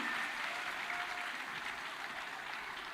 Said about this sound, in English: give a big round of applause to each and every one of our fellow panelists